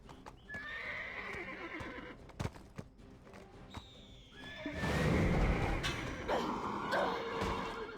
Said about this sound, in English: Eu tenho um cavalo novo hoje.